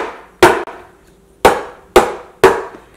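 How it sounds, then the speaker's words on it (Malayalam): A cake tin holding chocolate cake batter is tapped on a surface to settle it, giving four sharp, loud knocks spaced about half a second to a second apart, each with a short ringing decay, close with no talk. "ഇനി നമുക്ക് ഒന്ന് ടാപ്പ് ചെയ്ത് കൊടുക്കാം."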